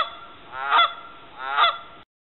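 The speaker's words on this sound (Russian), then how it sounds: "Канадская казарка." Two loud nasal Canada goose honks, evenly spaced about a second apart, sound close and clear with no other noise around them.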